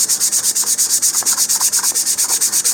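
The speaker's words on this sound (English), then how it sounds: "I'm going to go ahead and continue sanding all the way around." Sandpaper rubs back and forth over the body tube of an Estes Patriot Missile model rocket in fast, even strokes, a loud close rasping rhythm with no talk.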